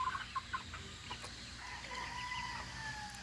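Thompson White gamefowl in a ranging area clucking softly, with a few faint short calls and some distant crowing, heard from a distance.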